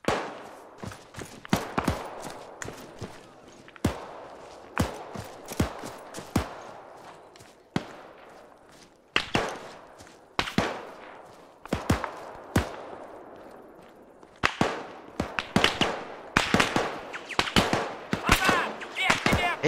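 Gunfire in the ArmA 3 video game: rapid bursts and single sharp shots crack repeatedly and loudly across the whole stretch, with brief gaps between volleys.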